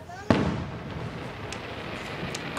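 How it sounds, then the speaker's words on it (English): Fireworks go off at an Independence Day display: one sharp, close bang followed by scattered fainter pops and crackles over a steady background hiss. "We're watching some fireworks."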